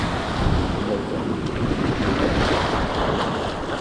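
Sea surf washes steadily onto a beach, a continuous broad rush close to the microphone with wind buffeting it throughout and no clear voices.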